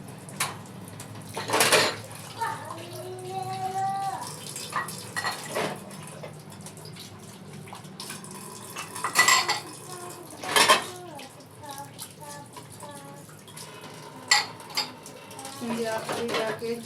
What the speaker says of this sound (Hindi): बर्तन धो लूँ।